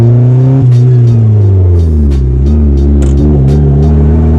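A turbocharged Mazda Miata pulls away, the engine note climbing and falling through revs in loud, close, harmonic sweeps with the turbo whining, while short sharp clicks or chirps break in.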